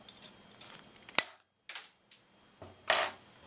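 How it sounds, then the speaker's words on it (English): A wire coat hanger is cut with a sharp, loud snap near the middle, surrounded by a few softer handling clicks and rustles in an otherwise quiet room. "Get your coat hanger and cut the straight piece off the bottom."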